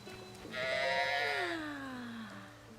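A single drawn-out sheep bleat rises and trails off slowly at a stable in the video game The Legend of Zelda: Tears of the Kingdom, fairly close and clear over quiet ambient background.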